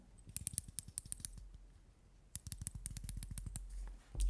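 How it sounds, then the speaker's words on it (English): A San Martin watch's ceramic rotating bezel, held close to a microphone, ratchets in crisp rapid clicks, two bursts of many sharp detents separated by a short pause. "The bezel is really great, clicky, and really great sound to it."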